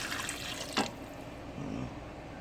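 Water is poured briefly into an Instant Pot with pork stroganoff ingredients and dehydrated onion, a faint trickling splash marked by a short sharp clink, fairly quiet in a kitchen.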